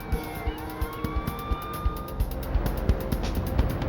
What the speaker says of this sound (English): Only the sound of approaching sirens prevented the young woman from being seriously hurt.